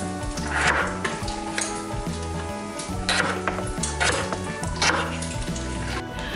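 Bacon sizzles steadily in a frying pan for potato soup, with a constant crackling hiss broken by clinks of utensils against the pan and a background of music.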